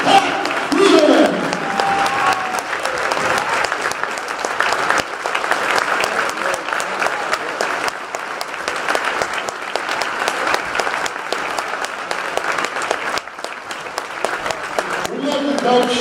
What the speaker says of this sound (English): how about a round of applause for Behan Strong, Coach Pat Behan